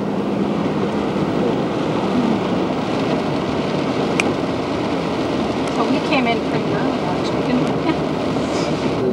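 Steady rain hisses continuously with a deep rumbling undertone like distant thunder, a dense wash of sound with a few faint sharper ticks.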